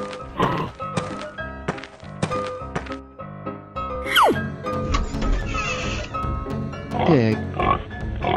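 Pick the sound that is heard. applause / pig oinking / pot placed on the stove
pig oinking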